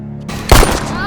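One sharp, loud gunshot from a pistol goes off in a tense movie standoff, a sudden burst that rings out briefly and fades over a low background bed.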